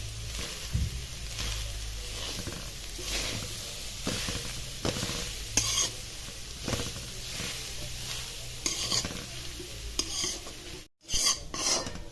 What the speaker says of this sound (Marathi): हा पूर्ण ड्राय करून घ्यायचा एकसारखं हलवत राहायचं